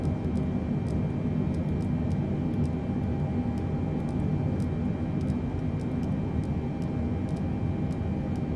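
A Boeing 747-8 cargo jet of UPS roars steadily in Microsoft Flight Simulator, a constant loud engine drone with a high whine on top, unbroken and without speech.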